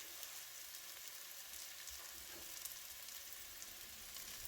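Wild garlic leaves cook in a pan with a steady, even sizzle and soft frying crackle, faint and continuous with no voices.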